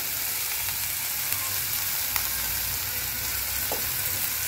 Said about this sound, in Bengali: কড়াইশুঁটির কাইটাকে একটু নেড়ে চেড়ে নেব, নাহলে এটা কীরকম গন্ধ আসে।